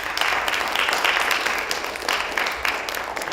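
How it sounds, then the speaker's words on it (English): Sustained audience applause at a university immigration conference, dense steady clapping from a crowd filling the room throughout, loud and continuous without pause. "Let's give them a round of applause."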